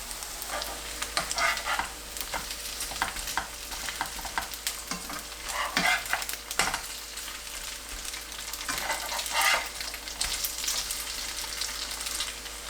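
Perilla leaf and tofu pancakes topped with round slices of red chili fry in a pan, giving a steady, close crackling sizzle throughout with small pops and stirring scrapes. No one speaks.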